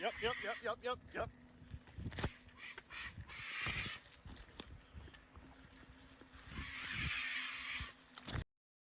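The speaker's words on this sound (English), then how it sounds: "that sounds like a pissed off bird" A harsh, angry-sounding bird call of unknown type comes in rough, raspy caws among scratchy noise and distant rumble, with people talking at moments.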